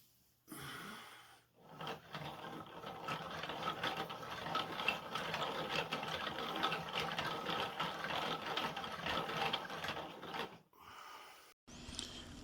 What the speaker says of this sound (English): This relatively large model is my own design version of what's called a Whitworth mechanism.